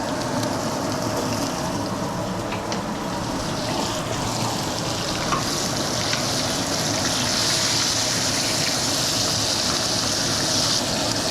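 Wagyu ribeye steaks fry in butter with garlic in a crowded pan over low heat, making a continuous loud sizzle and crackle with no pauses and no talk.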